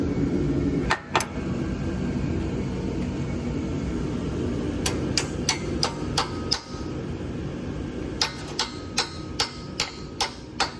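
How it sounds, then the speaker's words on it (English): A hammer drives a 13 socket onto a stubborn car exhaust bolt while installing an RV6 J-pipe on an Acura RL, with a couple of early metallic strikes, then two rapid bursts of sharp, evenly spaced blows over a low steady hum. "I'm gonna probably try to heat it up, hammer a 13 on it,"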